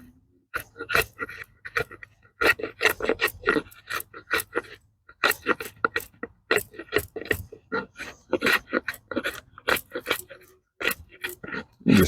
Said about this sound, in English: You just scrape away and debark the wood.